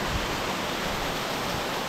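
Meltwater flowing through a winter gorge on Samaksan mountain with waterfalls along the way, a dense, steady roar of rushing water filling the whole stretch without pause.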